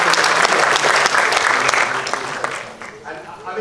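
An audience at a televised event applauds in a dense, loud burst of clapping that gradually thins and fades toward the end.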